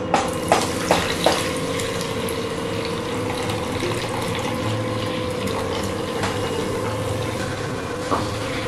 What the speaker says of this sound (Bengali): এখন আমি এর মধ্যে দিয়ে দিচ্ছি 1 লিটার দুধ।